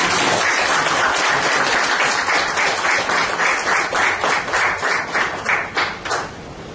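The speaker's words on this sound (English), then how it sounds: "So give them a big round of applause." Applause from an audience at a chapter launch event for its leaders, a loud sustained crowd clapping that thins toward the end into a few separate claps.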